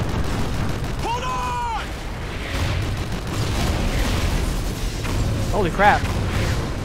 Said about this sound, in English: Enemy artillery inbound!